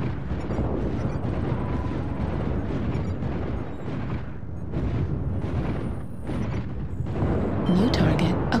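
Missile explosions in the Mechwarrior Online mech combat game, a dense, continuous rumble of heavy blasts and booms that stays loud throughout, with a voice speaking over it.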